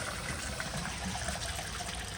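Steady, close trickle of extra water running from a 1965 Kohler Barlow toilet on a flushometer after the pressure is turned back on, an even, unbroken flow with no talk.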